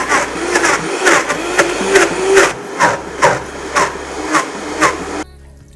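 A kitchen blender blends a thick, pasty dip, its motor whirring in a series of rhythmic surges about every half second, loud and close, before cutting off abruptly near the end.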